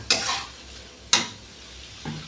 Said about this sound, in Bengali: ভালো করে আমি এটাকে মিক্স করে নেব।